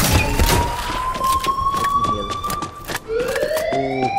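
A loud alarm siren blares in a mall in the video game Dead Island 2, a steady rising tone filling the scene and sounding continuously over busy game noise and brief bursts of activity.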